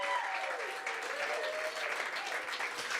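Audience applause at an evening music event, a steady wash of clapping held at even strength for a few seconds, with a faint tonal line drifting underneath.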